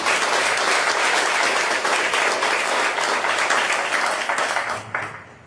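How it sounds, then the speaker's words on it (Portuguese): A church congregation claps loudly during a deliverance service, a dense, sustained wash of applause that holds steady before tapering off at the end. "vamos Jesus com salve de palmas, amém?"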